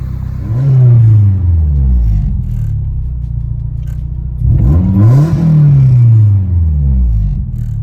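A Nissan 240SX engine revs up twice, rising and falling in pitch over a steady idle rumble, close and loud.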